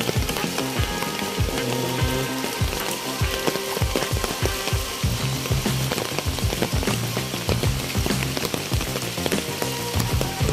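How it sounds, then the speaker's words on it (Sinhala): Heavy rain pours through a Sri Lankan rainforest bordered by tea plantations, a dense, steady roar of drops close by with no voices. "හිතුවට වඩා අද වැස්ස සැර වෙලා තියෙන්නේ"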